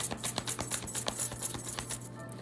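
Tarot cards being shuffled in a rapid series of close, crisp riffling clicks and flutters, steady and dense throughout with a faint low hum beneath.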